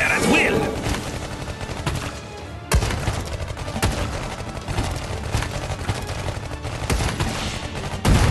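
Rapid bursts of gunfire from Iron Marines mobile strategy game units ring out throughout, dense overlapping shots with a sharp cut partway and more volleys following.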